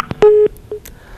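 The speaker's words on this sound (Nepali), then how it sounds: "फोन डिस्कनेक्ट भएको आवाज हामीले सुनिरहेका छौँ" A telephone line tone during a live TV call-in show: a few short electronic beeps and one sustained steady tone, loud and clear with no talk over it.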